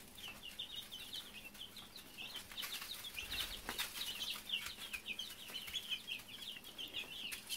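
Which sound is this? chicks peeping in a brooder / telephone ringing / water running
chicks peeping in a brooder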